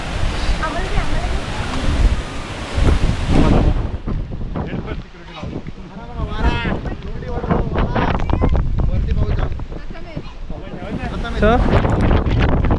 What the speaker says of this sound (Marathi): वारा मस्त सुटला एकदम.